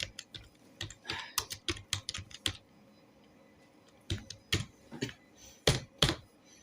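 Keys clattering on a computer keyboard during data entry in Tally accounting software, bursts of quick clicks, a pause of about a second and a half, then several firmer separate key presses, close and crisp.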